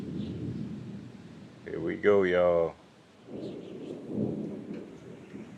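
Outdoor rain with a low rumbling wash underneath, faint and steady, while someone talks briefly over it.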